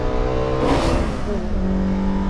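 A BMW M3 E30 CSL restomod by Redux revs hard at close range, its engine note rising and falling in a sustained, loud roar as the car is pushed into a slide.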